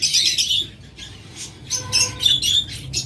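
Caged local-breed birds, each with a closed ring, squawk and chirp in repeated sharp bursts, several overlapping calls close by with short gaps between them.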